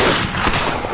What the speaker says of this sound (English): Why are they firing?